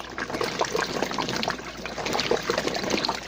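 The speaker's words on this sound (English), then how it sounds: "right here, a hand crank. So basically, I'm washing the clothes." Clothes sloshing in water inside a hand-cranked 5 gallon bucket washer, a prototype, producing continuous close trickling and splashing without speech.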